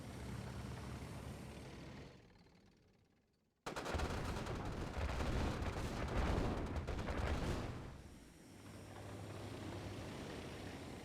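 Flak cannon fire in the real-time strategy game Command & Conquer Red Alert 2, a dense, rapid barrage of booming shots with rumbling explosions, briefly dropping out before a loud sustained burst that fades into ongoing battle noise.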